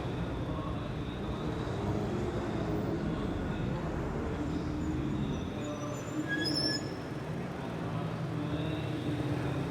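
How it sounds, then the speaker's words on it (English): Twenty TCR touring race cars slowly forming up on the floodlit Singapore street circuit at night, a steady low engine rumble from several cars at a distance, continuous and even throughout. "Our 20 TCR cars slowly form up."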